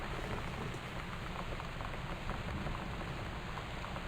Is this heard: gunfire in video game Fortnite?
no